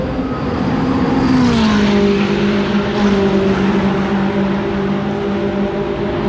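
A McLaren 620R sports car on the Portimao race track gives off a loud, steady engine drone close by. Its pitch sweeps down early, then holds an even, sustained tone with no talking.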